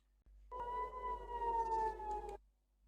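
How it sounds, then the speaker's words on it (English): An emergency alert siren, ambulance-like, sounds as one steady wailing tone with rich overtones that holds for about two seconds and then cuts off, with nothing else around it. "you hear outside the window like an ambulance car"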